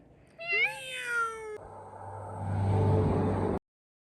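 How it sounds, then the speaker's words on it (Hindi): A cat lets out a couple of rising, drawn-out meows up close, followed by a rumbling engine-like noise that swells before cutting off abruptly. "बिल्ली की आवाज काट।"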